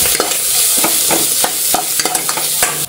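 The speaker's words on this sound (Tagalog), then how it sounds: "Siyempre, magigisa tayo ng bawang at sibuyas." Garlic, onion, Chinese sausage and corned beef sautéing in a pan for beef noodle soup, a loud continuous sizzle punctuated by regular sharp scrapes and clinks of a spatula stirring.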